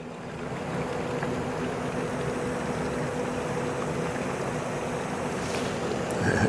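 Low, quiet engine hum of a large new cargo ship passing through the Welland Canal, a steady drone under broadband wind and water noise, with no talk.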